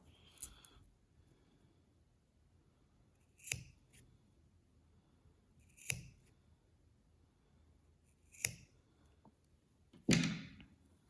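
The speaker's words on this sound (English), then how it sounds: "I'm gonna go back on those same slits that I already cut and just recut them" Scissors recutting slits in material for a craft project: five sharp, separate snips spaced a couple of seconds apart, close and clear against a quiet background.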